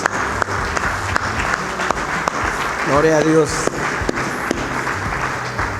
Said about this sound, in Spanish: Vamos a darle un aplauso a Dios por la vida de ellos, mis hermanos